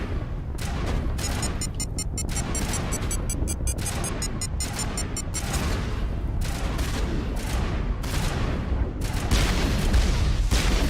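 Grenade blasts and gunfire in the Mass Effect video game, a dense, continuous barrage of booming explosions and rapid shots loud throughout with no pauses.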